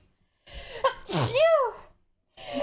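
A single loud sneeze with a sharp intake before it, close by, followed by a brief pause and another voice starting.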